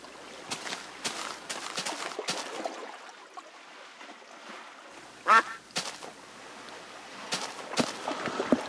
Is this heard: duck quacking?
yes